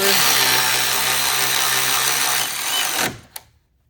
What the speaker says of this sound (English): Once again, this is an electric ratchet.